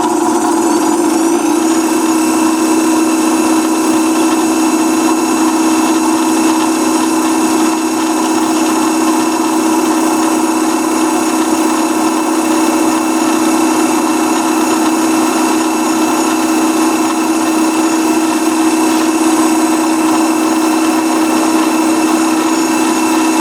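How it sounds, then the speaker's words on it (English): A steady machine whine with a strong constant tone runs unbroken and loud for the whole stretch, a drill press center drilling a metal plate. "I'm going to center drill each one of these spots that I center punched"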